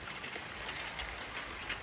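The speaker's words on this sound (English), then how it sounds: "Just going to get us out of the rain." Rain falls in a steady, even hiss outdoors, with a soft patter and no talk over the short stretch.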